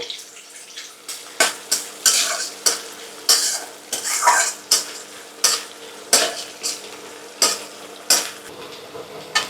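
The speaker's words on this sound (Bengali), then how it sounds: "পেঁয়াজটা একটু ভেজে নিতে হবে।" Onion frying in a pan is stirred in a steady rhythm of loud, close scraping strokes, roughly one every half second, over a constant sizzle; no talking.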